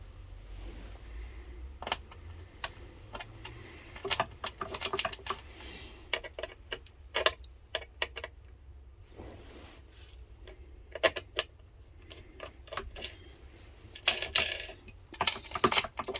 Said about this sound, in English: And then we need to open these two screws.